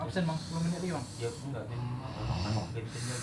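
A person snores with raspy, hissing breaths that rise and fall in a slow rhythm, close by, while people talk over it.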